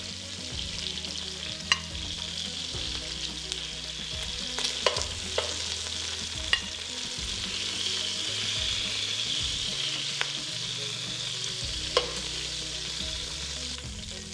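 Onion, celery and carrots sizzle in a pot of hot fat left from browning beef for a spicy stew, a steady crackling fry with occasional stirring scrapes and clicks and no voices.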